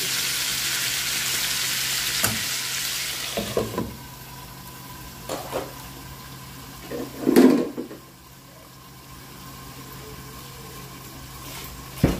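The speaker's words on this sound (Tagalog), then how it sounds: "I-add natin ang ating onion at garlic." Onion and garlic frying in a pan, a bright hiss of sizzling that fades after a few seconds, followed by quieter cooking with intermittent clinks and stirring scrapes of utensils.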